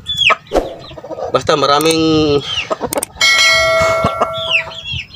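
Gamefowl chickens at a small breeder's yard cluck and call in loud, close bursts, with a drawn-out crow-like call, while someone talks over them.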